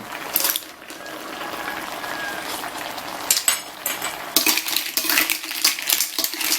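Clams stir-fried with basil in a wok, with metal utensils scraping and clinking against the pan over a steady sizzle. Bursts of clatter rise and fall throughout, loud and close.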